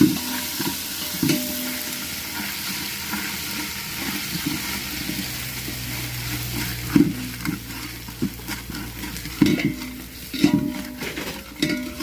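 Village-style mutton red curry sizzles in a pot on a wood-fired chulha at a dhaba, with steady frying and a ladle scraping and stirring through it, occasionally knocking the pot's side.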